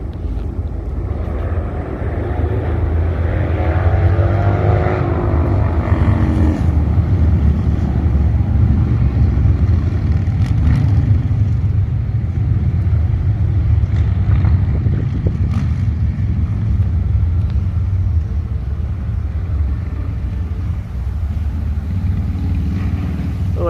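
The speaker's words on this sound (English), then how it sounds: "It's like a crew of Harleys or something." A group of motorcycles like Harleys rumbles past, a steady low-pitched exhaust drone swelling and fading at moderate distance, mixed with road and wind noise and no talk.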